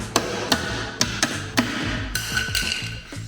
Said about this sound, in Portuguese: Martelo SATA e fenda própria de bater da SATA também.